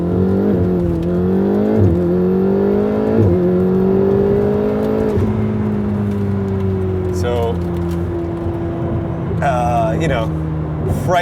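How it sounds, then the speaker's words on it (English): Ferrari 488 engine in race mode accelerating hard through upshifts, the loud rising drone climbing and dropping with each gear change, heard close from inside the cabin, with a voice talking briefly over it. "you may have heard the engine RPM dancing around a little bit"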